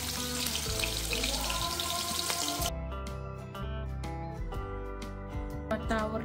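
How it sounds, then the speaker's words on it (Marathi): Onion and tomato hissing and crackling in hot oil in a home kitchen, a steady close sizzle with music playing throughout and a clattering background. "आता आपण कांदा टाकू, तेलात चांगला पुजू आणि टोमॅटो सुद्धा."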